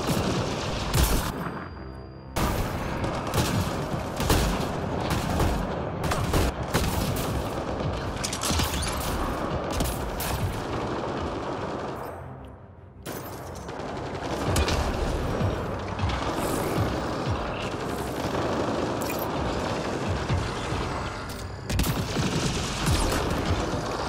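Gunfire in the video game Mass Effect: Andromeda: sustained, loud bursts of rapid automatic shots and booming impacts, nearly continuous with brief lulls, heavy and close with mechanical combat noise and no talk.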